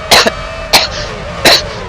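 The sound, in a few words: cough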